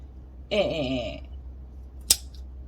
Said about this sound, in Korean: 요거 가위만 한 번만 잘라 볼게요.